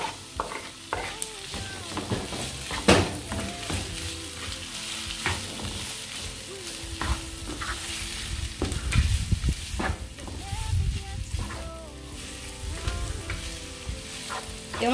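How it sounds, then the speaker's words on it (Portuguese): Tomato sautéing with sausage in a frying pan, a steady close sizzle broken by repeated scraping stirs of a utensil against the pan, with no voices. "Refogar aqui o tomate"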